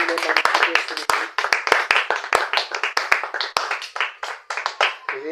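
A congregation at a revival prayer gathering claps loudly for Jesus in a steady, rhythmic beat of sharp hand claps, with voices carrying underneath.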